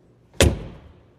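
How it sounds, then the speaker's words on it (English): A heavy door on a Boxwood Green vehicle with teak trim shuts with a single solid, deep thud, close and loud, then fades away quickly. "Sounds like a bank vault door."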